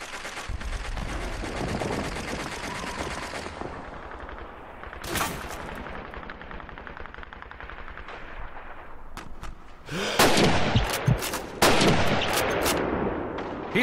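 Gunfire in Call of Duty 2 on the Eastern Front, with rifle and machine-gun bursts around a city hall and sharp single shots. Firing rattles through steady battle noise, fades midway, then returns in loud, dense volleys near the end.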